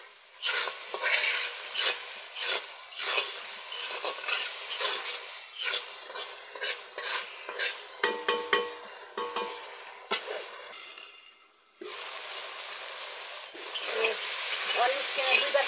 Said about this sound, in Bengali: আর এই যে টাকি মাছ দিয়ে দিলাম। ভালো করে কষাই নিতে আনছি।